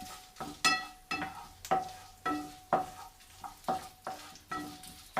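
Dried red chillies roasting in coconut oil for a village-style chicken curry, a repeated scraping stir at a steady rhythm over a soft sizzle, close and fairly loud, with no talking.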